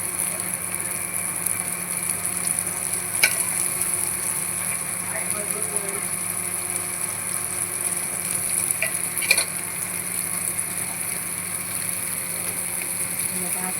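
Mandeli fish frying in oil on a flat pan, giving a steady, dense sizzle close by with a couple of faint clicks of a utensil.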